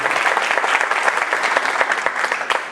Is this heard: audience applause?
yes